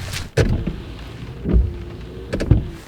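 Rain falls outdoors near a village in the Chevreuse area as a soft, steady hiss, broken by a few louder thuds and gusty bursts, with no voices.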